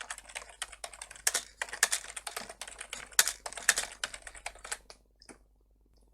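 Fast typing on a computer keyboard while writing Python in a code editor, crisp close key clicks in a steady busy stream that slows and stops near the end.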